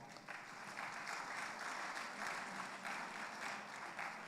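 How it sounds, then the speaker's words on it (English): Audience applause at an international conference and annual general meeting of architects, a steady, continuous patter of many hands clapping in a large hall, fairly faint and distant, with no talk over it. "May we give him a round of applause"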